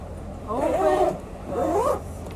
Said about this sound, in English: What to do in this life but be closing zippers.